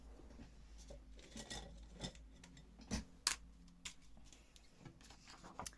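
Scissors snip out an oval shape in a quiet craft setting, with faint, sparse clicks and rustles rather than a steady cutting rhythm.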